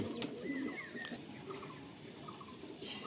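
Pigeons coo softly inside a pigeon loft in Barasat, the low calls faint and continuous amid quiet room noise.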